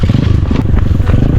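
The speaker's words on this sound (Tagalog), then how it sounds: "papahunin nga pala namin yung motor doon sa may pinakang taas" A motorcycle climbs a steep hill, its engine a loud close continuous roar with rough rattling and scraping from the ground underneath.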